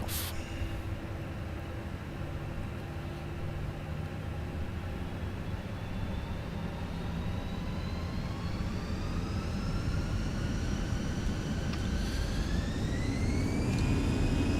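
An Airbus A320 jet spools up for takeoff in a flight simulator, a steady engine roar with whining tones slowly rising in pitch, fairly quiet and with no talking.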